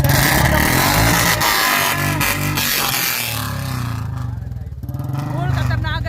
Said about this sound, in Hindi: इसका ना एग्जॉस्ट का साउंड सुनाता हूँ, चालू कर बे।